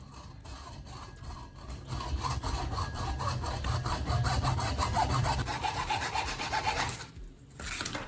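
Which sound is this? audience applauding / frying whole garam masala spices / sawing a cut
sawing a cut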